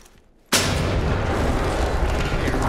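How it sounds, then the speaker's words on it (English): In the game Ready or Not, a launched grenade explodes indoors. Near-silence breaks into one sudden loud boom, and a dense roaring rumble sustains for the rest of the clip. "I'm gonna shoot a grenade in there."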